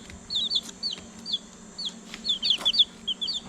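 Young sweater-breed gamefowl chicks, white and standard, cheep and cluck in a farmyard, with short high chirps coming in scattered bursts over a steady low background hum.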